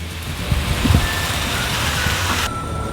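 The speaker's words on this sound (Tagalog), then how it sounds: "ngayon, kumukulo na yung ating tripe at malambot na rin siya." Tripe boils in a pot for kare kare, a steady bubbling simmer with soft popping close by that continues without a break for the whole stretch.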